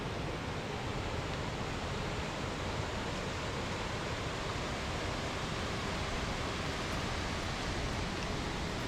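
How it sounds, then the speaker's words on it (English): Seven Veils Falls pouring into alpine Lake Oesa, a steady broad rushing roar of falling water, even and unbroken throughout with no voices. "you can hear the powerful flow of the falls feeding into the lake."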